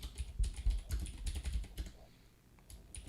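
Rapid typing on a computer keyboard during a card-game deck-building stream, a dense run of clicky keystrokes in irregular bursts that thin out briefly before resuming.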